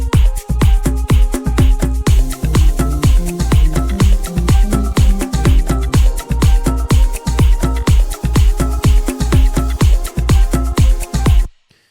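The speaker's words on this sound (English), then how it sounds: "So with this flute and tambourine added in," Afro house groove in which a flute and tambourine ride over a steady percussion loop, with a driving, evenly pulsing kick and layered hand percussion playing loud and continuous until a sudden stop.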